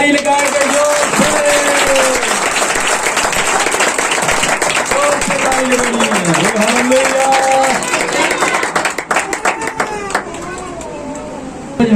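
A congregation at a Christian worship gathering claps loudly in rhythm through a joyful hymn, with the clapping carrying over voices singing and calling out, and it fades near the end.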